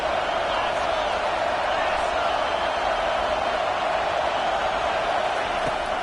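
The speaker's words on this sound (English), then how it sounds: "The crowd is really getting into it." Crowd roar in an American football video game, a dense, unbroken wall of cheering throughout a tense late-game moment, loud and steady.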